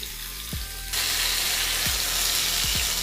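Filet mignon steak sizzling in a frying pan with garlic, a steady close hiss that jumps louder partway through, broken by a few sharp utensil clicks and no talk.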